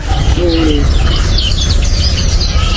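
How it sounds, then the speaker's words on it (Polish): Birds chirp and call faintly in the mountains near Jericó, Colombia, over a steady, loud low rumble of background noise, with a brief tonal whistle early on. "był koncert ptaków"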